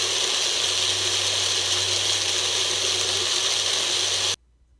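An electric blender runs steadily, whirring a marinade of jalapeno, garlic, citrus and spices at close range with a low motor hum, then cuts off abruptly near the end.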